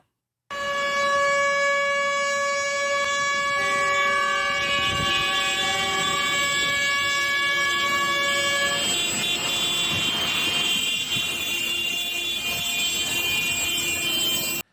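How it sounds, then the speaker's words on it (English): Long, loud blaring truck and car horns held in steady sustained tones, layered and continuous like a convoy of farmers and truckers honking together on a highway to Paris, with rumbling traffic underneath and no talking. "the farmers and the truckers making their way to Paris did not do so very quietly, as they honked the whole way down"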